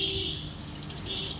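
Lovebirds in a pet shop, faint high chirps and tweets repeating briefly over a low background murmur.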